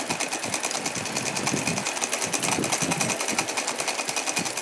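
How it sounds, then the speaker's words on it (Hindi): A sewing machine runs steadily, stitching thin lace onto a Radha Krishna doll outfit, with a fast even needle rhythm close by for several seconds without talk. "इसके ऊपर हम सिलाई लगा देते हैं"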